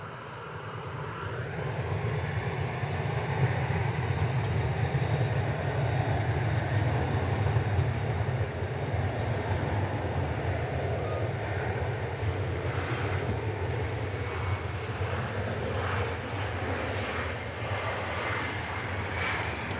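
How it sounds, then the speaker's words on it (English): An American Airlines Boeing 737-800 departing Dallas Fort Worth for El Paso gives a continuous, fairly loud jet engine roar with a rising whine early on, with faint bird chirps and no speech over the steady rumble. "Here's a plane that's getting ready to go off to El Paso, Texas."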